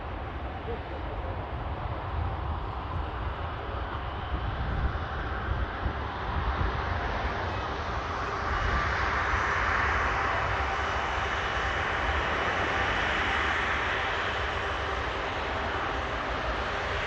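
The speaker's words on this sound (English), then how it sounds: "Heading off to Shanghai, the Boeing 787-9 Dreamliner." Boeing 787-9 Dreamliner in Chinese peony livery departing Manchester Airport for Shanghai, a steady broadband jet engine roar that swells in the second half, heard from a distance alongside some wind.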